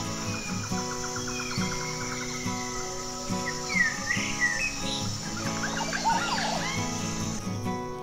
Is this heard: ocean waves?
no